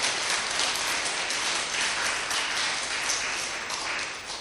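A lecture audience applauds continuously during a spiritual talk by Pandit Vijay Shankar Mehta, a dense, steady wash of many hands clapping at once that fades slightly toward the end.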